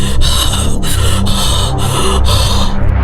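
A teenage girl of about sixteen or seventeen pants heavily and continuously, fighting for breath. Rapid, raspy gasps repeat close and loud in a steady rhythm, with no talking.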